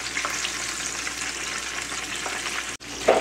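Fish fries in a skillet with a steady, even sizzle close by, and a brief clatter and stir near the end.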